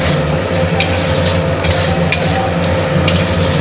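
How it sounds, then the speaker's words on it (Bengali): Potatoes are sautéed in a spice masala for Gondhoraji Shonkormach, giving a loud, close sizzle with intermittent scraping strokes of the spatula. "এবার এর মধ্যে আমি আলুটা দিয়ে দেবো, আলুটা দিয়ে একটু কষাবো"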